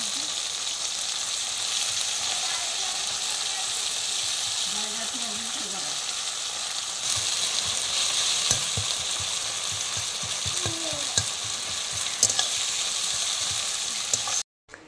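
Onions for an egg curry fry in a pan with a loud, continuous sizzle, and a stirring spoon scrapes and clatters through it. A few faint voice-like sounds rise briefly in the middle.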